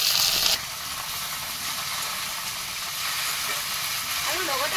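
Steady, close sizzle of leafy greens dropped into a pan of browned onions and chilies frying in oil, with a louder burst at the moment they go in, then an even hiss throughout.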